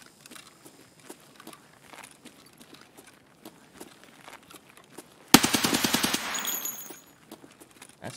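Machine gun fire in a video game: a loud, rapid burst of shots lasting about a second and a half, standing out from faint background game noise, with no talking.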